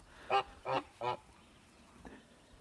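Three loud Kholmogory goose honks ring out in quick succession, followed by a fainter fourth call after a pause, against a quiet background.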